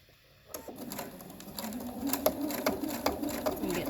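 A sewing machine stitches pleated cloth mask fabric after a quiet start, its stitching sound building into a steady run with faint clicks and a few sharp ticks. The sound stays fairly quiet and close.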